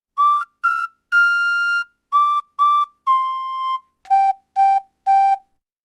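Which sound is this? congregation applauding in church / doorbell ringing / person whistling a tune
person whistling a tune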